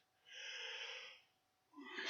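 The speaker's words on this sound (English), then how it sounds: "Sorry about the yawn." One long, breathy yawn, soft and close, rising and fading over about a second, followed by a short sharp intake of breath.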